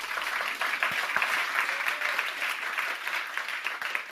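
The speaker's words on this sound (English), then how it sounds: "you will get a spontaneous round of applause from everyone in TEDx Technion" A TEDx audience at the Technion breaks into sustained applause, a broad wash of many hands clapping at moderate loudness that carries on evenly from start to finish.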